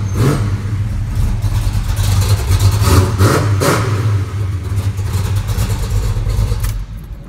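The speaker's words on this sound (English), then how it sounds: "give you a couple more revs before we shut her down" A 1971 Chevelle with a 454 V8 revs loudly close by, its deep engine roar swelling and easing in several throttle blips over a steady low rumble, with no talking.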